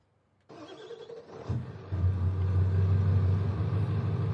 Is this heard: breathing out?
no